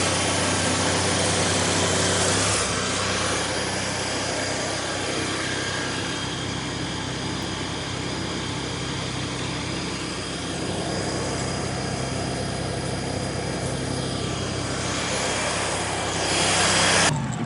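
An American Jetter 51T Inferno Burner jetter unit's engine runs steadily at a loud, constant drone with a high whine, close by and unbroken, with a slight change in pitch near the start and end and no talk.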